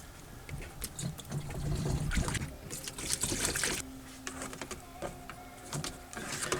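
A coolant and water mix is poured into the overflow reservoir of a Dodge Durango/Dakota 4.7L V8, giving faint, uneven trickling and splashing with small gurgles, close by and without talk.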